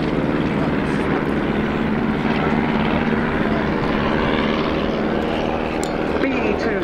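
Several SE-5A First World War biplanes fly a pursuit routine at the RIAT 2018 air show, their propeller engines droning loudly and steadily throughout.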